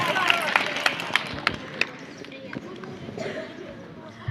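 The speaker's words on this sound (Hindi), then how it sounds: "एक बार तालियों से अभिनंदन करो श्रेया का जोरदार" Scattered, sharp claps from an audience at a school National Youth Day and Swami Vivekananda Jayanti event welcome a student to the stage. The claps thin out into a steady crowd murmur.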